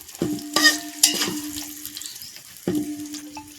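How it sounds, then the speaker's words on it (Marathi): Onions fry in a pan for a chicken dish while being stirred. There is a soft sizzle, several sharp clinks and scrapes of a utensil against the pan, and one ringing metallic tap near the end. "तिकडं आपला कांदा जो परततोय आता"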